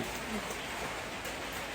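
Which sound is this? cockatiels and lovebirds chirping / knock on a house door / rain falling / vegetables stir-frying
rain falling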